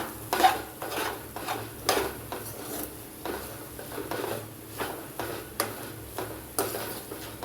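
Onions and spices sautéed on a low flame in a pan for gravy, soft rhythmic scraping and clinking of a spoon against the pan repeating about once a second over a faint, quiet sizzle.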